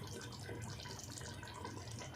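A cup of water poured into a pot of black chickpea curry, a soft continuous splashing trickle heard close and fairly quiet with no talking.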